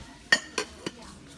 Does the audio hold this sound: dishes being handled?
yes